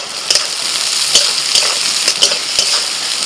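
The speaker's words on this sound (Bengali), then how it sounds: "প্রথমেই তেলের মধ্যে দিচ্ছি পেঁয়াজ কুচি" Chopped onion hits hot oil with a loud, continuous sizzle, broken by several sharp clicks and scrapes of stirring, with no talking.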